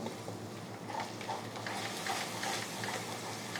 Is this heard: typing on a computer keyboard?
no